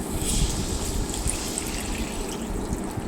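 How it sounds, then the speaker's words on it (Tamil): Tamarind water poured into a pan of fried masala for a spring onion kara kuzhambu, a short, steady, soft trickle and splash lasting a few seconds. "புளி தண்ணியை கொஞ்சம் ஊற்றிக்கலாம்"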